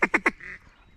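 Ducks quacking from trees near a public-land hunting spot in Arkansas, three quick, fairly loud quacks in a row followed by a softer drawn-out call, no talk.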